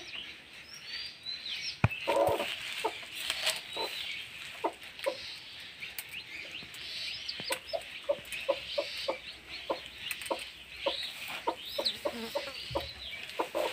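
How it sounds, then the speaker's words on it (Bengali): A mother hen clucks softly and repeatedly beside her newly hatched chicks, with short, close cackling notes over a quiet background. "এই দেখো মুরগি বাচ্চাটা, দেখতে পাচ্ছ?"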